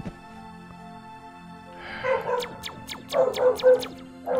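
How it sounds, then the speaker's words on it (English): Dog barking in the survival building game Dig or Die: a run of short, sharp yips and barks at moderate volume over a low steady background hum, coming in quick clusters without talk. "And there goes the dog again."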